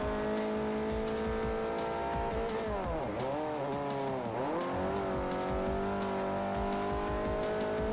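A race car engine in Forza Motorsport 4 drones at high revs, then dips and climbs through sweeping pitch changes as it downshifts, with tire squeal over the steady roar and no voices.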